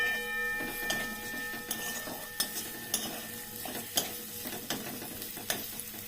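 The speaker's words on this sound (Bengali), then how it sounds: "প্রথমে একটু বেরেস্তাটা ভেজে নিচ্ছি।" Onions fry in oil for beresta, a soft continuous sizzle broken by fairly regular light taps and scrapes of a spatula stirring in the pan, recorded close and fairly quiet.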